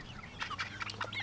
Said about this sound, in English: Again, not a very big bird in the Mediterranean or continental class of chickens, but she's a blue Andalusian.